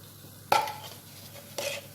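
A spoon stirs spices, a pinch of cardamom and ground dried lime, through the meat mixture for majboos, two short scraping bursts of metal against the pot, close and fairly quiet with near silence between.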